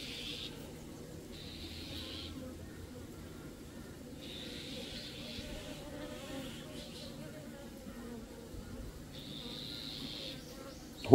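Steady low buzzing of many honeybees around a hive fills the clip, with a higher whine swelling in and out as individual insects pass close by.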